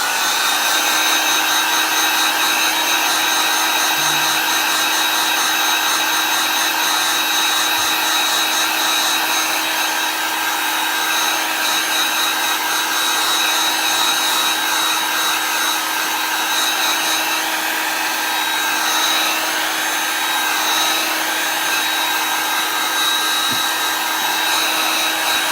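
A heat tool or dryer blowing on freshly applied chalk paint, a loud steady whirring hiss held without a break for the whole stretch, close up and alone.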